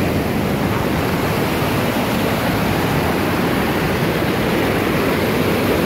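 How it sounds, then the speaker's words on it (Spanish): Waterfalls in a natural setting pour with a constant, full-bodied rushing roar, loud and unbroken from start to finish, with no voices over it. "Unas cascadas muy bonitas que hay aquí."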